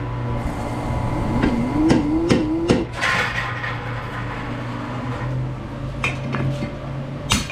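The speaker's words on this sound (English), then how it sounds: "Send it over the power hammer." Power hammer forging hot metal while punching holes in a blacksmith shop, heard as a cluster of sharp metallic strikes early on, then scattered clanks over a steady low machine hum.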